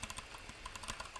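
Quick clicks and clacks of typing on a computer keyboard, a brief burst of crisp keystrokes at an uneven, rapid rhythm, faint and close, with no talking.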